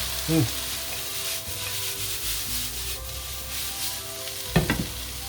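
Prawns sizzle steadily in a hot pan, a continuous close frying hiss with a few scraping stirs, including a sharper clatter near the end.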